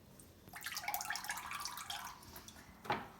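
Water drips and trickles from a soaked block of floral foam lifted out for a wedding arrangement, a close, splashy patter that swells and then ends with a final small splash.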